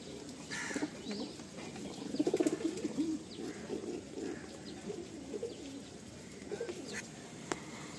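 Several pigeons, including a white pair, coo softly in a loft, with low murmuring calls rising and falling steadily through the recording and a few faint chirps and wing rustles mixed in.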